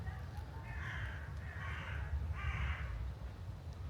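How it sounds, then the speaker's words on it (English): Crows caw in a noisy commotion overhead, three rough, drawn-out calls spaced about a second apart over a low rumble of outdoor background noise in Paris. "Some bird commotion going on up there."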